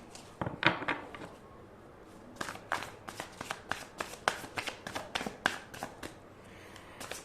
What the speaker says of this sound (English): Let's shuffle the card.